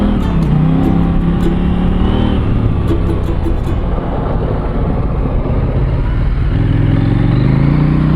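On a winding rural road in northern New South Wales, a motorcycle with a slipper clutch roars loudly and steadily close by, its engine pitch falling and rising through gear changes.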